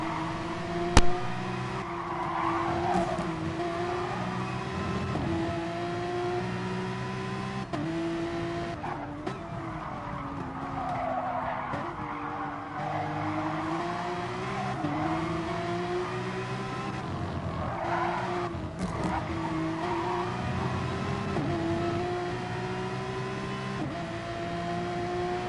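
Porsche Cup race cars lap Spa in Gran Turismo Sport, engines droning steadily with shifting pitch as they accelerate and brake, with occasional tire squeal and no voices.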